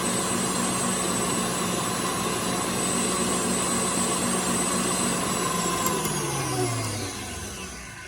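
A stand mixer whirs loudly at high speed while mixing low-carb bread dough, a steady dense motor whine with no talk, winding down toward the end.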